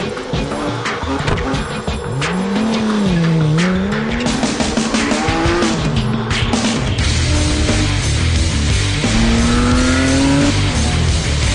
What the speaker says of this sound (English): Let's take the car on the track and test the new aerodynamic package.